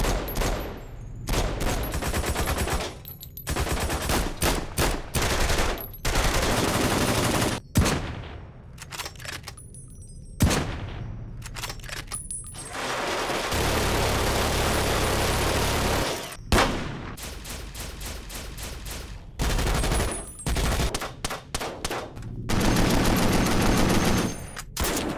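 Replaced, modded weapon sounds from Fallout New Vegas play one after another: loud gunshots, rapid automatic bursts and heavy booms, separated by short silent gaps, with no talking.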